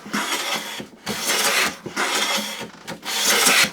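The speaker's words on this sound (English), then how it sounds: "when the chip breaker doesn't slip forwards, we get perfect shavings." A hand plane fitted with a Hock iron and chip breaker shaves wood in four quick, close strokes, each a bright hissing rasp separated by brief pauses.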